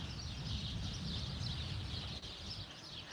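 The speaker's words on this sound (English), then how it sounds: "I can just hear the birds in the trees here." Birds call and chirp steadily in trees, a faint, continuous high-pitched twittering over a low outdoor rumble, with no talking, in Cala Bona, Mallorca.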